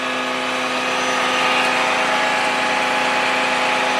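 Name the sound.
Ram tow truck engine running with PTO engaged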